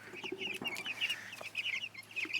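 Meat chickens clucking inside a chicken tractor on pasture, with many overlapping soft clucks and chirps from a small flock, fairly close and quiet.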